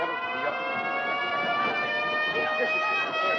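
A loud, sustained siren wails with a steady pitched tone, with voices talking underneath it.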